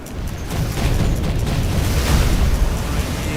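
Explosions from naval gunfire in the video game Field Commander 2: a dense, loud, continuous roar of booms and bursts close up, lasting a few seconds.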